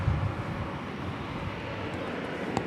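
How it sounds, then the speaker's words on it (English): A Spirit Airlines Airbus A320 arrives at DFW Airport on a summer morning, heard as a steady broad jet roar with wind rumble throughout and no voices. "Spirit Airlines Flight 1270 arriving from Las Vegas,"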